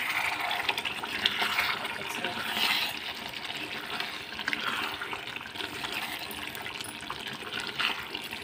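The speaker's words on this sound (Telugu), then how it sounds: "ఉడుకుతుందండి" Chicken curry with tender tamarind leaves bubbling in a pot, a steady close watery burble and hiss that runs unbroken throughout with no clear speech.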